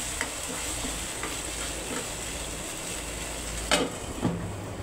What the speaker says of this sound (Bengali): এই পর্যায়ে আমি অল্প জল দিয়ে আবার কষাবো